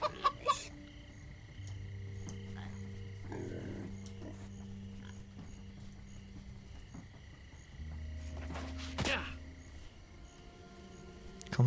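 Chickens cluck in the Minecraft Story Mode video game, a few short clucks and squawks over a steady drone of background game music and ambience, with no speech.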